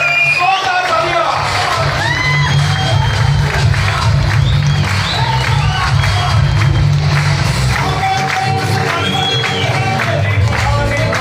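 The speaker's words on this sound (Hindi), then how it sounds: "सुबोध जाधव साहब के लिए जोरदार तालियां।" Loud applause and cheering from an audience at a speech event, mixed with whoops and shouts and steady music underneath, sustained for over ten seconds.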